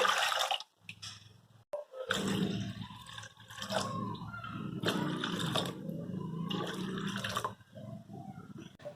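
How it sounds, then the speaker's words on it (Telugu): Water pours into a bowl of tamarind for rasam in several splashing, gurgling bursts separated by short pauses, close and fairly loud. "ఆ తర్వాత 2 కప్పులు నీళ్ళు యాడ్ చేసుకోండి."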